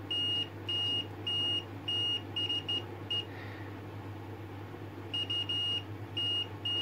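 A multimeter in continuity mode gives short, clear electronic beeps while testing an AF117 transistor from a Roberts R300 radio, coming in quick clusters with a pause in the middle, over a low steady mains hum.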